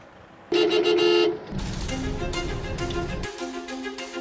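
Car horns honk in slow, congested Metro Manila traffic: a long loud blare near the start, then overlapping horn tones and engine rumble from nearby vehicles, with more honks trailing at the end.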